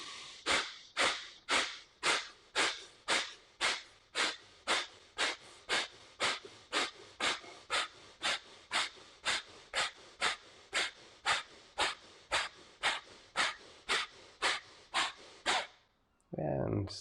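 Deep rhythmic breaths during a pranayama practice, about thirty quick forceful exhalations in a steady, even pulse, close and clear, then a brief pause before one final breath.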